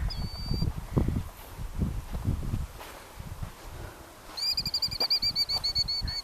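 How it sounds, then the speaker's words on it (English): Birds walking and flapping on Indian Island beach, with soft rustling and fluttering wingbeats, a few faint chirps, and a rapid run of wing flaps toward the end. "birds walking all over."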